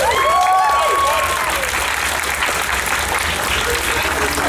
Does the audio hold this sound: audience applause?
yes